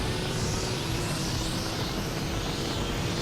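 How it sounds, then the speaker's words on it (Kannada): A jet aircraft in the Asphalt 8 racing game roars past with a steady, dense, close rushing drone that holds level throughout, with no voices. "ಇಲ್ಲಿ ಜೆಟ್ ಹೋಗ್ತಾ ಇರುತ್ತೆ ನೀರ್ ಹತ್ರ ನೋಡಿ"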